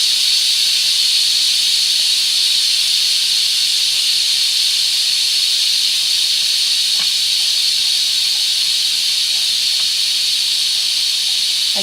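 Steam hissing from an Instant Pot pressure release valve after cooking corn and chili chowder, a loud, constant high-pitched jet that holds unbroken for about twelve seconds.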